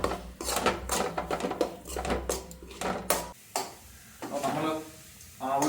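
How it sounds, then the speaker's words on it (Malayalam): Onion and chili flakes being sautéed in oil in a pan for pappadam nachos, with steady sizzling and repeated stirring scrapes and clinks of a utensil against the pan, a quieter pause midway, then more stirring. "നമ്മൾ എണ്ണ ഒഴിച്ചു അതിലേക്ക് സവാളയും പിന്നെ ഇപ്പൊ ചില്ലി ഫ്ലേക്സും"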